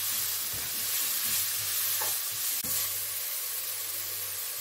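Leeks seasoned with salt and pepper fry and sizzle in a pan while being stirred, a steady close hiss broken by soft scraping stir strokes and a sharp clack, with no talk.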